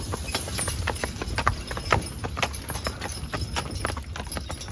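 Steady clip-clop of a team of young Belgian draft horses' hooves on a hard road, a quick even rhythm of sharp knocks, close by with no talking.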